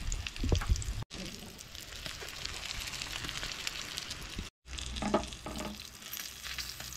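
Rawa-coated bangda, or mackerel, fries crisply in a pan, sizzling in a dense continuous hiss that breaks off twice briefly, with occasional louder spatters and no talking.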